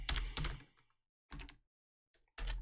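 Bursts of typing on a computer keyboard entering a command in a Mac terminal, a quick flurry then two shorter clusters separated by silence, close and clear.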